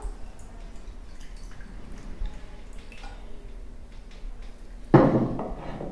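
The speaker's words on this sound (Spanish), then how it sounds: "Le añadimos agua." Water pours into a pot holding a teaspoon of kuzu root starch for kuzu tea, a brief close splash near the end after quiet kitchen sounds.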